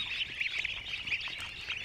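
Many Black Hole breed ducklings peep and cheep in a dense, continuous chorus, close and fairly soft, with no voices.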